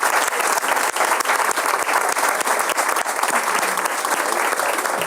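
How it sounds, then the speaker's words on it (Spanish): Loud, dense applause from a crowd at a public hearing in a congress, many hands clapping steadily and close for about five seconds with no break. "quiero que le demos un aplauso a los compañeros que tendrían que haberse ido a las 7:30"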